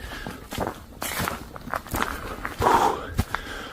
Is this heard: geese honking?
no